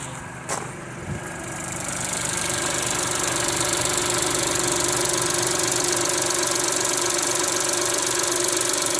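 A Renault Twingo engine with a camshaft position fault idles steadily and close, a continuous mechanical hum with a faint knocking texture and a high whine, settling after a brief start.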